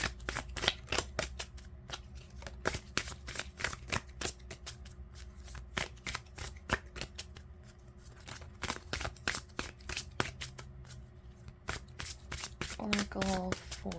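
Oracle cards shuffled by hand in a rapid, crisp run of riffling slaps and flicks, close and continuous, with brief talk near the end.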